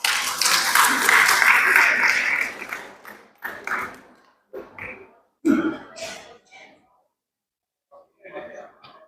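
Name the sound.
applause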